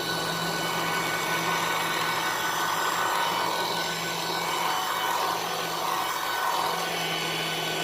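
A Puppyoo A9 cordless vacuum runs at low power over carpet, a steady close-up whirring hum with a rough brushing texture that holds level throughout.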